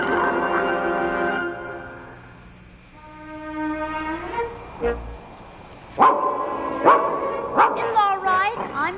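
A dog in an animated Little Prince series barks and whimpers several times in close succession, with a background music score and a voice speaking nearby.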